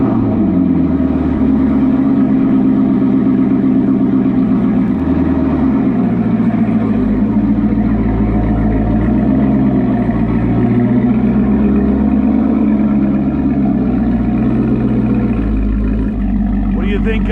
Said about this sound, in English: that AWE exhaust sounds fantastic on the C7